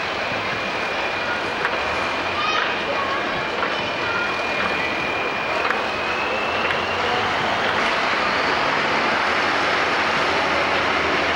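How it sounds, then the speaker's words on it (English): A 1976 International 1566 tractor runs at a county fair 4-H event, its engine a steady, broad drone heard at a distance under outdoor crowd ambience, with a faint whine drifting through. "Your next tractor is a 1976 International 1566."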